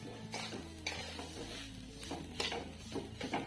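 Grated coconut and semolina are stir-roasted in a pan, with a spoon scraping and clinking against the metal in repeated strokes over a faint sizzle. The sound is close and fairly quiet, with no talking.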